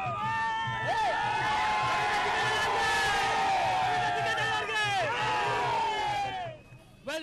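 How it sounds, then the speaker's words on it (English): A roadside crowd cheers and whoops around Ramya's open-air campaign vehicle at Santemala village, a loud sustained roar with shrill whistles that fades out near the end. "and the crowds go mad"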